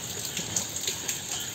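Heavy rain pours steadily in Raipur, a dense continuous hiss of drops striking surfaces close by, with no voices over it.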